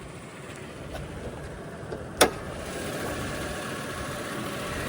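A V6 turbo car engine idles in a steady low rumble, close and even, with one brief sharp click partway through.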